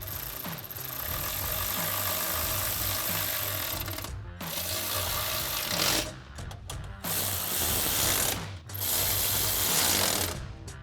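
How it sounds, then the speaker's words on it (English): A ratchet with a 13mm socket tightening side step bar bolts onto their brackets on a vehicle, giving rapid continuous clicking close up, broken by a few short pauses between strokes. "now we can go ahead and tighten up the bolts that hold the side step to the brackets. Again, using our 13mm socket"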